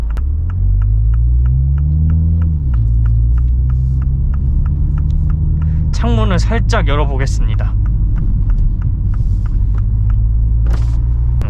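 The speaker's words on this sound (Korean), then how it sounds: "스포츠 모드 세팅해 뒀을 때 가만히 있어도 사운드와 배기 소리가 전해져요" A deep exhaust rumble from a Mini Countryman JCW in sport mode drones steadily inside a tunnel, rising in pitch early on, with someone talking over it partway through.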